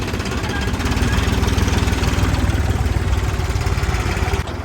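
A tractor engine runs nearby with a loud, steady, rapidly pulsing diesel chug that holds for several seconds before easing slightly.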